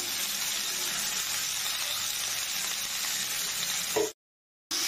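Green beans frying with salt and turmeric make a steady, moderate sizzle that runs unbroken before a short silent gap at the end.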